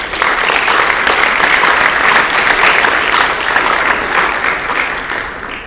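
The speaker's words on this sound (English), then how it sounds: "So a round of applause for that." Sustained applause fills a high school auditorium at an athletics awards ceremony, a dense, even wash of clapping from a large audience that holds steady throughout and eases only slightly at the end.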